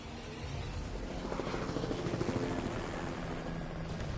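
Steady helicopter rotor thudding and engine whine in a Tekken 8 story-mode cutscene, a moderately loud continuous rhythmic chop heard alone with no talk.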